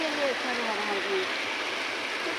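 Water flows steadily in a stream near a newly built small dam at Kirlos in Malvan, making a continuous broad rushing hiss with no one speaking.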